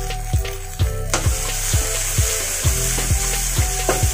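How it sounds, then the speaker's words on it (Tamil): Onions and tomatoes sauté in oil in a pan, a steady loud sizzle broken by regular scraping strokes of a spatula stirring about every half second, with no talking. "நல்லா வதக்கி விடுங்க, கொஞ்ச நேரம் நல்லா தக்காளி பச்சை வாசனெலாம் போகிற வரைக்கும் நல்லா வதங்கட்டும்."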